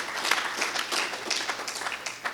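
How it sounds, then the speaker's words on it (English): An audience gives a round of applause at a civic talk on local infrastructure funding, a soft, fairly distant patter of many hands clapping steadily throughout without any talking. "that deserves a round of applause"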